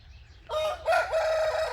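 A rooster crows once, loud and close, a long harmonic call that rises and then holds, over a quiet low hum.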